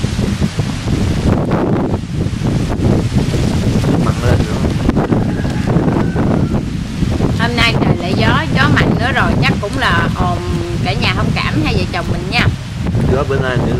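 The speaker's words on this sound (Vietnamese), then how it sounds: "Gió ào ào gì? Gió liên tiếp vậy nè" Strong coastal wind at Ben Tre roars continuously into the microphone with loud, gusty rumbling, while people talk throughout over the blustery noise.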